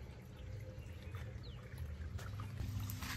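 Water from a 3-inch irrigation pump motor, drawn from a borewell for a maize field, gushes and splashes in a faint, continuous flow with no voices.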